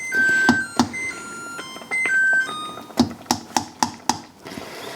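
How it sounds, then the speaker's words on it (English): A kitchen timer beeps in short electronic tones, then a quick run of sharp taps and clicks follows as it is handled, close and clear with no talk. "while the time runs out on my 10-minute timer"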